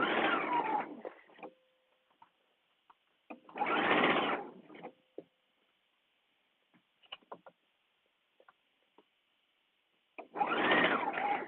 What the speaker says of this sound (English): And then continue to stitch around.